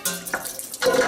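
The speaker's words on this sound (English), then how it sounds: "I'm going to fill it up a little over half." Water runs into the water pan of an offset smoker, set up to smoke Texas-style pulled pork, in a short close splash that swells louder toward the end.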